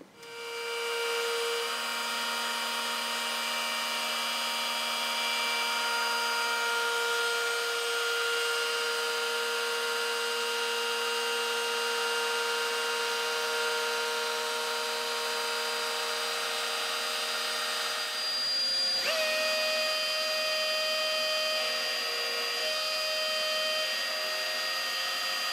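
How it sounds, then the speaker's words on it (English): A router carves out a wooden bass guitar body, its steady high whine running continuously and close at hand, with a brief shift in pitch partway through as the bit bites differently into the wood. "So we're going to route out that part first."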